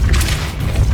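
The Depulso repelling charm lands in Hogwarts Legacy with one heavy, close boom, a deep, loud rumbling impact that holds for about a second.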